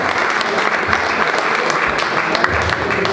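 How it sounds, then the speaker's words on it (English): Audience applause at an awards ceremony for a performer called onto the stage after a difficult trick: dense, steady clapping from a crowd, loud and close, sustained throughout with no voices. "Round of applause for Curtis Lopez, guys,"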